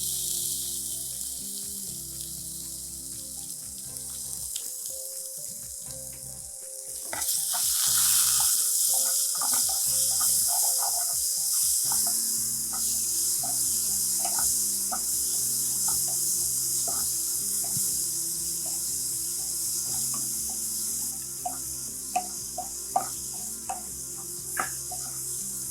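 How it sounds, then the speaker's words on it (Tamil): Tomatoes go into a kadai of leftover oil for an Andhra-style brinjal dish and sizzle steadily and softly, with a louder rush when they land, then lighter crackles and stirring clicks. "இப்போ இதே கடாயில் எண்ணெயெல்லாம் ஊற்ற வேண்டாம், இதுவே போதும். தக்காளி போட்டுடலாம்."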